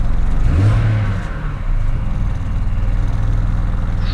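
A BMW 335i engine idles roughly after a downpipe install, with its O2 sensors plugged in wrong: a close, steady low rumble with an uneven pulsing beat that sags briefly midway, then recovers, with no voices.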